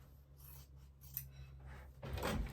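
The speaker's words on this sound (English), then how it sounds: "And we are going to cut." Scissors snip through quilt fabric along a stitched line on a precut quilt, a couple of quiet rasping cuts over a low steady hum, the last cut louder and closer.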